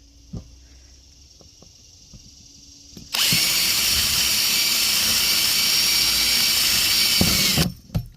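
After a few faint knocks, a power drill starts abruptly and runs with a steady high whine for about four and a half seconds, loud and close, drilling holes in a plastic bin, then stops.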